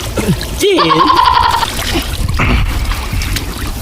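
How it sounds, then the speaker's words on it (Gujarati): Cold well water splashes and trickles over hands being washed outdoors on a farm, a close, uneven spatter with voices talking over it. "મસ્ત હાથ ધોઈ લઈએ. એકદમ ઠંડુ ભાઈ કુવાનું પાણી."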